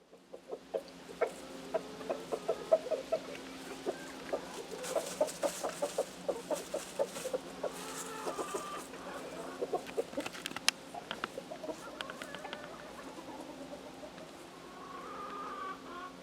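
Several chickens, including English game, leghorns and a naked neck rooster, cluck and murmur in short, scattered bursts, close and fairly soft, with no talking.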